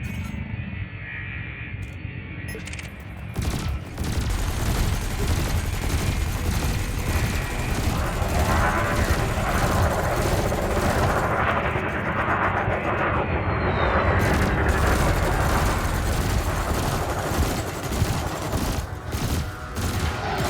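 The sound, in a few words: burst laser firing at ship shields in video game Elite Dangerous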